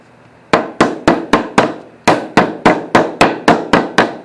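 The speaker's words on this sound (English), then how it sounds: "Just closing a paint lid" A paint can lid being tapped shut with a hammer: eleven sharp, evenly spaced knocks in two bursts, close and loud with short ringing decays, no talk.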